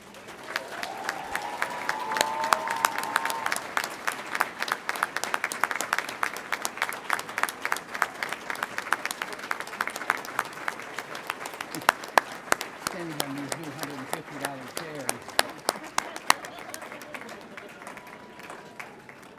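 Graduates at a Saint Mary's University of Minnesota commencement ceremony applaud their families and friends, a long sustained wave of crowd clapping in a large hall, with brief voices and cheering rising through it.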